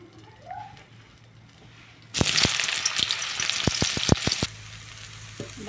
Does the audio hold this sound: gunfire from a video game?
no